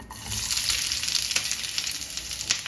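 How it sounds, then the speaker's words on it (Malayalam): Medium onion frying in hot sunflower oil, a close, busy sizzle with sharp crackling pops scattered across a steady hiss, no voices present. "എണ്ണ ചൂടായിട്ട് അതിലേക്ക് ഒരു മീഡിയം സൈസ് സവാള ഇട്ട് കൊടുക്കാം"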